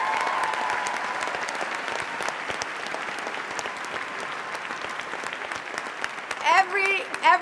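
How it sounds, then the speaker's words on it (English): A crowd at an evening free-speech event for Palestinian rights gives another round of applause, sustained dense clapping that fades slightly before voices and louder sounds break in near the end. "I want you to give them another round of applause"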